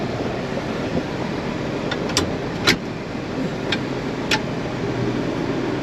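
An older red tractor with a power shift transmission runs steadily at harvest time, its low engine drone continuous and fairly near, broken by a few faint high clicks and rattles.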